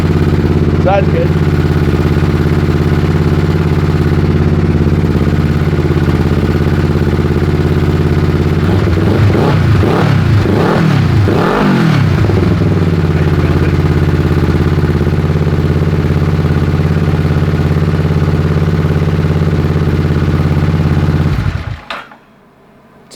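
A loud 600cc crosskart engine with no exhaust leak idles steadily, revs up several times in quick bursts around the middle, settles back to idle, then cuts off abruptly near the end.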